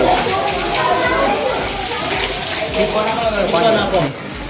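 Water pours steadily from a Govardhan hill model at the Amrutvel Khodiyar temple, a loud continuous rushing splash lasting throughout, with voices mixed in.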